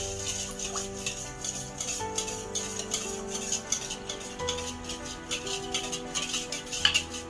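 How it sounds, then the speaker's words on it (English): A whisk beats an egg, vegetable oil and other bread batter ingredients in a bowl, making rapid, continuous metallic clicking and swishing at close range over a faint steady hum. "now I'm going to whisk everything together"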